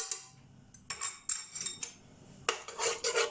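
A spoon stirring yogurt in a metal pot for Syrian shakriyeh, sharp clinks and scrapes of utensil against the pot in uneven bursts, close and with no voices.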